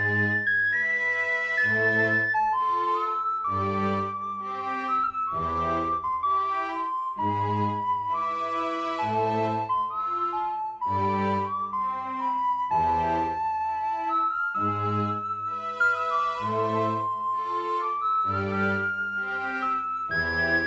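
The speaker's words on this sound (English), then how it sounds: "I'm going to play the flute across that." A sampled flute from the Feroyns Kontakt library plays a slow, breathy melody over sustained orchestral string chords, the lines close and continuous throughout.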